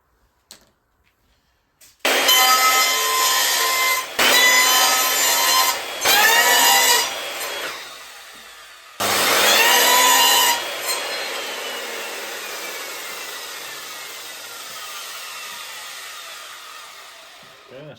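A power tool cuts strips of material for an RC crawler trailer in four loud, separate bursts with short pauses between them. The last cut is followed by a long whine that fades away.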